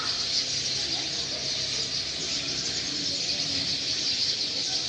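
Many birds chirp and squeal in a distant tree at evening, a dense, faint chorus of high calls forming a continuous outdoor backdrop with no talking.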